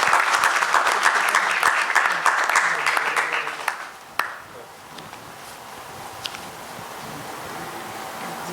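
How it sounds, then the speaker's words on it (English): An audience at an opening ceremony in Mumbai breaks into dense applause that fades out after about four seconds, leaving a quiet room with faint murmurs and scattered small knocks. "let's welcome him with a round of applause"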